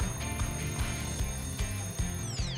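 An alarm clock ringing loudly and continuously, its rapid pulsing buzz repeating in a steady rhythm, with nobody speaking over it.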